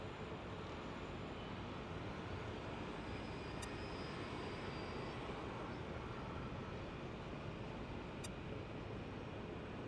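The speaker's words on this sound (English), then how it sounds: "No, it's a 757." A Boeing 757 airliner at Los Angeles International Airport gives a steady, distant broadband engine roar that stays even throughout, with no voices.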